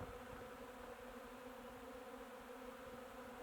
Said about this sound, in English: Huge swarm.